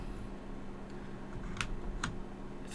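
Keys clacking on a Dierya EK63 mechanical keyboard fitted with red Gateron switches, quiet and steady over a constant background hiss, with a couple of sharper key strikes standing out.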